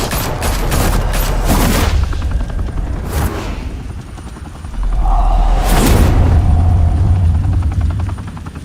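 Gunfire in Batman: The Telltale Series, loud bursts of shots and booms over a heavy rumbling, helicopter-like drone, with a sustained roar building again in the second half.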